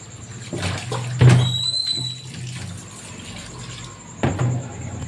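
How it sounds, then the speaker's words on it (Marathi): Water drains and drips from freshly washed spinach leaves sitting in a metal colander in a home kitchen, a soft trickle with a few louder splashes and clinks. "आता हे पाणी निथळत आहे"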